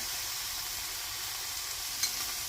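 Soy sauce goes into a pan of stir-fried anchovies and shishito peppers, raising a steady, fairly quiet sizzle and hiss that continues throughout, with a tiny click near the end and no talking.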